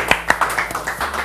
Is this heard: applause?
yes